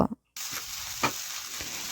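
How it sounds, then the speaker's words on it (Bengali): Egg frying in a pan for chowmein sizzles with a steady hiss, while a utensil stirring it scrapes a few times in quick strokes. "এভাবে নাড়াচাড়া করে ডিমটা একটু ভেজে নিচ্ছি"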